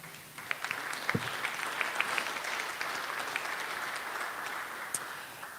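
Audience applause at a business hall of fame ceremony: a steady, dense patter of many hands clapping that holds at a moderate level for several seconds, with a few sharper claps standing out.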